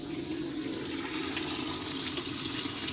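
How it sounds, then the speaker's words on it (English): Water rushes steadily into a Whirlpool or Maytag washing machine as it fills, a continuous hissing flow at moderate level that builds slightly over a few seconds, with no talking. "we're going to let it fill up"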